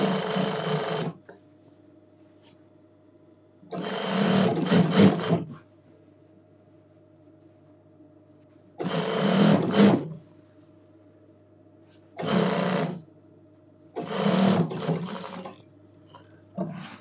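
A sewing machine stitches a zipper down the front centre of a kandura night dress, running in four or five short bursts of about a second each, with a low steady motor hum in the pauses between.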